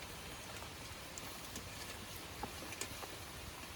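Steady rain falls outdoors during cooking, a dense continuous hiss with scattered individual drops pattering on surfaces nearby.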